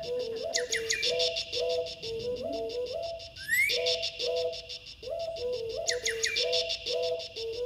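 Red-winged blackbird calls mixed into a live wildlife DJ performance alongside a repeating synthetic beat, with bright chirps and a rising whistle-like sweep recurring in a looped rhythm, loud and close.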